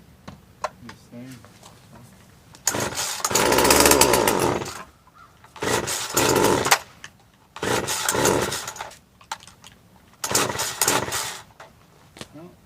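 Husqvarna 136 chainsaw with a leaking fuel system, choke on, bursting into several loud revving runs of engine noise separated by short pauses, with talk also present.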